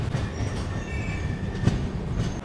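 Train at Badshah Nagar railway station in Lucknow, a steady loud rumble of rolling railway cars with faint wheel squeal and clacks, heard alone without voices.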